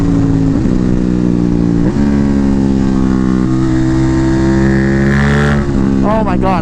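An Aprilia Tuono 660 motorcycle with tuned mods accelerating hard in second gear, its engine note climbing steadily in a loud, close rising whine, briefly dipping at a shift before revving again; a voice speaks briefly near the end.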